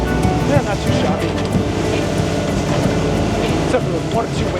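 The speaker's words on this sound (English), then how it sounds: "Except for the 1 or 2 waves breaking." Steady wash of water and surf around a small boat out on open water, mixed with constant wind buffeting the microphone and a low engine rumble, loud and continuous throughout.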